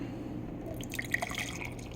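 Country Time pink lemonade sweet tea poured into a frozen glass, a soft trickle with a few bright drips and splashes near the middle, close and quiet.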